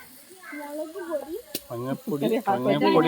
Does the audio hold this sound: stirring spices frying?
yes